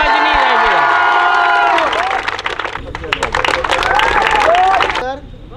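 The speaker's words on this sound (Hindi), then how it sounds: "ताली की गड़गड़ाहट बजनी चाहिए।" Loud audience applause and cheering at a school and coaching centre function, dense clapping with shouts and whoops riding on top, building and holding before dropping away abruptly near the end.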